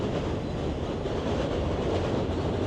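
A New York City subway 7 train rumbles steadily past on an elevated track overhead, a continuous loud roar of wheels and cars with faint rhythmic clatter throughout.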